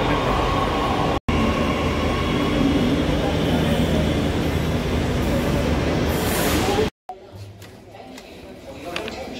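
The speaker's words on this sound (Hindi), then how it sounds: "मेट्रो भी आ गई है" Metro train at a Delhi station, a loud steady rumble of the arriving train throughout with a short break in the middle, then quieter platform noise at the end; no clear voices.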